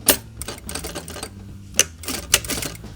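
Sewing machine stitching folded bias tape on a shortened top sleeve, a close run of fast mechanical clatter broken into short bursts with sharp clicks between them, no talk.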